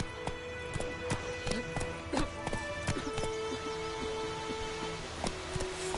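Horse hooves clip-clopping at a quick, steady pace as Roach, the horse in The Witcher 3 game, runs along, with an occasional whinny and game ambience layered underneath.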